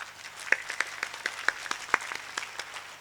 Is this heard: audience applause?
yes